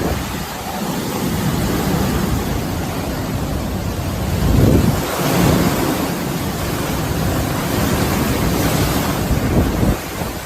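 Typhoon Halong's roaring wind and crashing surf batter Hachijojima in the Izu islands before dawn, a loud, continuous wash of noise that swells around the middle.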